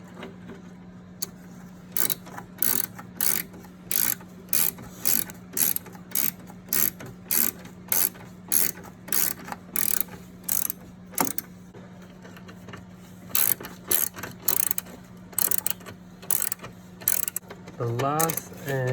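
A ratchet wrench tightens the three nuts on top of a car's front strut mount during a strut replacement, with rapid bursts of clicking repeated steadily throughout, close up and loud, over a low continuous hum.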